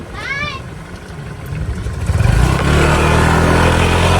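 An engine starts low and revs up into a loud, sustained roar close by, after a brief high call at the start.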